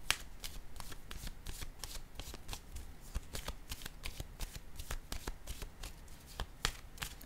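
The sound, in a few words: tarot cards being handled and laid down on a table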